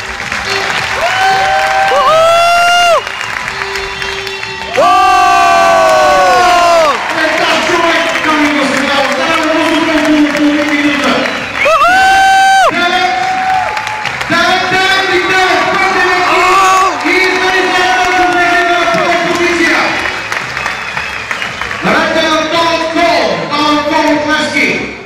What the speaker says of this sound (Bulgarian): дами и господа. Аплодисменти.